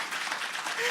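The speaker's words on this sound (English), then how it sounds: "Everybody clap for my mom." An audience claps for a guest being welcomed at a speaking event, a brief burst of steady applause lasting about a second with a voice faintly underneath.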